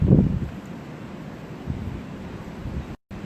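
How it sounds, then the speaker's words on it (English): Gusts of wind on a windy day outdoors buffet the microphone, opening with a strong rumbling blast, then settling into a steady low roar with smaller surges and no talking. "It's a really windy day."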